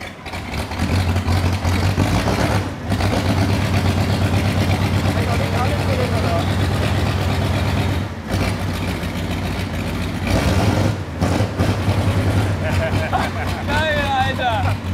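Vintage tractor engine revving hard in a power test, a loud, steady low drone with brief dips as the throttle eases, with people talking over it.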